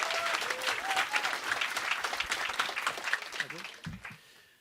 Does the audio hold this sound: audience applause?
yes